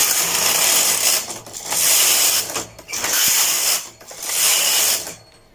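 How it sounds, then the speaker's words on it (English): Main carriage of a knitting machine swept back and forth to knit four rows, loud mechanical rasping and clicking passes, each about a second long, separated by short pauses, with no talking. "So we need 4 rows of our main carriage again."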